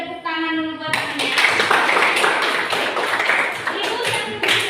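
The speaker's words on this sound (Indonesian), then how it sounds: "Bagus, kita beri tepuk tangan dulu buat temannya." Students in a classroom clap for a classmate, a burst of mixed hand claps that starts abruptly after a short moment of speech and carries on at a moderate, uneven level with a few sharper taps.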